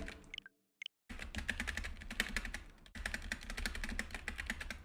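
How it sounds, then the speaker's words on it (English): Rapid clicky keystrokes on a mechanical computer keyboard, dense and close, starting after a brief silence and running on with a short pause midway, quiet overall. "What if I type on a keyboard?"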